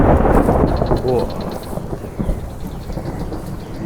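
Rain pours and thunder rumbles heavily during a motorbike trip, a loud dense roar that fades slightly, with a voice briefly speaking beneath it.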